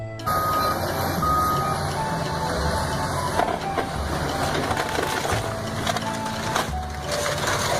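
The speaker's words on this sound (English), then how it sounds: "Excavator." An excavator works at a construction site, a steady repeating reversing beep sounding throughout over a rough engine rumble with occasional clanks and crunches.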